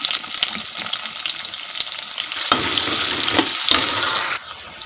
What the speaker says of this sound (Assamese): এতিয়া মই একেখিনি তেলতে পাঁচফোৰণ দিম।